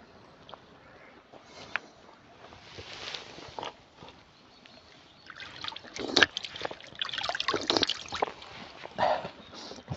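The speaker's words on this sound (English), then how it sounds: "You see the water coming out here." Clear fresh water trickles out of the wall of a disused tunnel in East Yorkshire, faint irregular dribbling and splashing that swells toward the end, mixed with scattered footsteps and rustling nearby.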